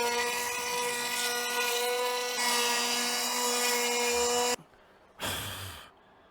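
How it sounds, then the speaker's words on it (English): A power router shaping and rounding the edges of laminated skateboard wood, a loud steady high-pitched whine that runs continuously, then cuts out briefly and starts again for a short burst. "we are now just going to hit it with the router, do over the edges"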